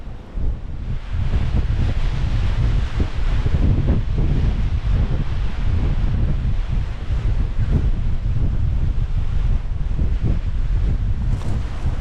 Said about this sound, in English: Sorry, I'm huddling out the wind and I really hope it's not too bad.